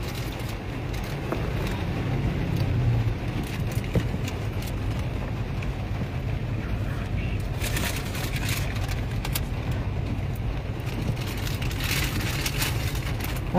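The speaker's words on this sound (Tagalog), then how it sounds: "Pilipinas ulan po, Pilipinas traffic." Street traffic in the Philippines during rain, a continuous, loud wash of vehicle engine rumble and rainfall with scattered sharp ticks and splashes throughout, no speech.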